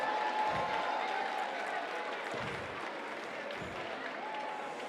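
Applause from a crowd for a singer at a women-in-leadership gala rolls on, fairly distant and soft, with faint music tones and a few low thumps mixed in.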